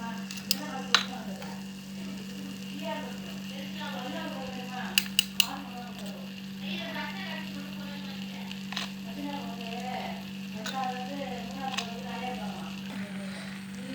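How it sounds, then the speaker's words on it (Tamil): Rice and cooked carrots are stirred in a pan, giving a steady low sizzle with soft scraping and a few sharp utensil clinks against the metal, while a voice murmurs faintly underneath. "இப்போ நம்ம நல்லா கிண்டிக்கலாம்."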